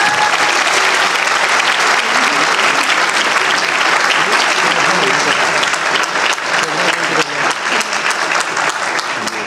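A large audience at a modeling awards stage event applauds loudly and continuously, a dense sustained wash of clapping with no break.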